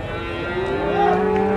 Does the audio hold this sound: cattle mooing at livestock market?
yes